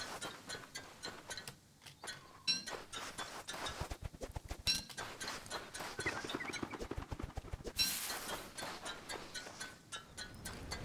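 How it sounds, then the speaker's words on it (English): Armor clanking while a character runs in Don't Starve Shipwrecked, a quick rhythmic run of metallic clicks and clatters like hurried footsteps, rising and falling over several seconds amid faint game ambience. "My armor makes really weird noises when I run around in it."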